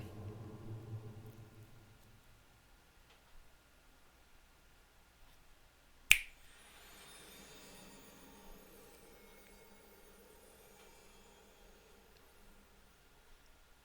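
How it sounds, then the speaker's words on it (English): One sharp finger snap rings out alone midway through an otherwise quiet stretch, with faint background hiss before and after. "I did snap my fingers right there."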